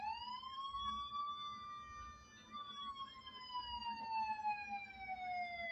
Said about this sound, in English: Disaster alarm.